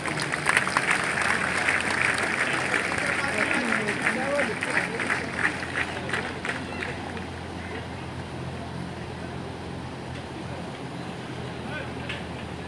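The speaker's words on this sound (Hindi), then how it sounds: "तालियों से अभिनंदन कीजिए।" Crowd applause at a police passing out parade ceremony during a prize presentation, steady dense clapping that fills the whole stretch, loudest early and easing slightly later, with a public-address voice mixed in.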